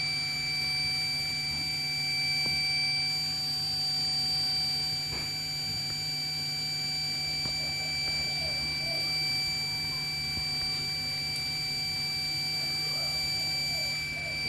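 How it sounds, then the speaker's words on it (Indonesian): Electronic buzzer sounding in a transformer cooling simulation for a power plant control system, a continuous high steady tone holding for the whole stretch with faint background hum and a few soft clicks. "setelah temperatur melebihi 48 derajat Celcius, maka buzzer akan berbunyi seperti yang tertampil pada video ini"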